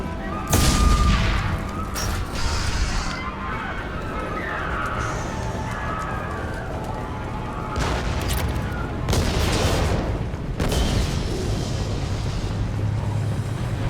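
Sustained gunfire and explosive booms from the Mass Effect 2 firefight on veteran difficulty, a dense continuous barrage with louder bursts near the start and again around the middle, crashing impacts layered throughout.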